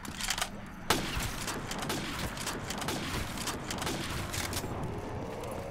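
Shotgun blasts in a Call of Duty Zombies TranZit-style gun game, a sharp close shot near the start followed by dense, overlapping game gunfire and rumbling effects.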